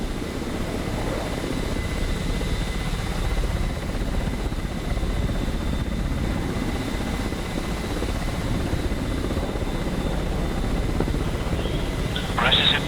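Ka-50 attack helicopter flying in the DCS World combat simulator, a steady dense rotor and engine drone filling the whole stretch, with a brief sharper burst near the end and radio-style talk faintly underneath.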